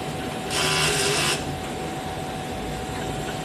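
A DTF printer runs its print-head cleaning cycle, giving a loud, steady mechanical whir that lasts about a second before settling back into a quieter hum.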